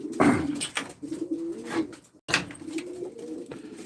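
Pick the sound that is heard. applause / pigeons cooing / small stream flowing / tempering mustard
pigeons cooing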